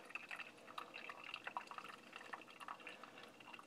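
Water trickles in a slow, tight spiral over ground coffee beans in a pour-over brewer, a faint, steady patter of small drips and splashes near and alone.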